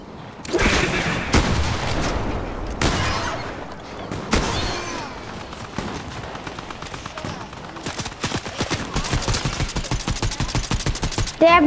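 Rapid automatic bursts from a drum gun in the video game Fortnite, loud and close, with several sharp volleys early on and a long sustained string of fast shots toward the end.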